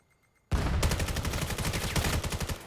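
Sudden, loud automatic gunfire erupts in the VR shooter VAIL during a competitive match, a dense barrage of rapid, evenly pulsing shots that starts abruptly after a moment of near silence and continues without pause.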